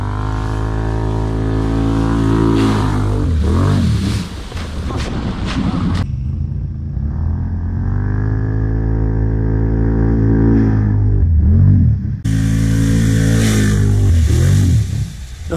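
A 2020 Can-Am Renegade XMR 1000R ATV engine drones loudly and close as it churns through water. The pitch rises and falls with the throttle, and the tone briefly shifts to a muffled, splashy rush before the full roar returns.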